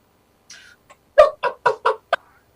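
Chickens raised on a farm for a hunting lodge cluck in a short run of about five or six close, sharp calls, clear and alone with no talk.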